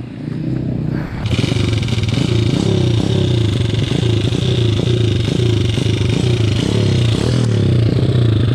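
An enduro motorcycle rides a trail near Digos City, its engine loud and close, revving and surging with clattering and scraping over rough ground after a quieter opening second.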